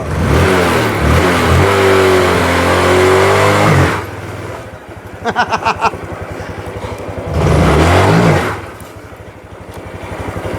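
A Honda Wave 125i motorcycle engine revs up in two strong bursts during a clutch test, with a steady idle and some clattering between them; no voices are heard.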